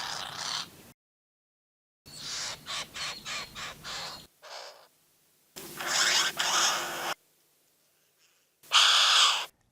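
A western bowerbird mimics harsh calls in several separate bursts: a rapid series of rasping, caw-like notes, then longer scratchy outbursts, each loud and close with silent gaps between.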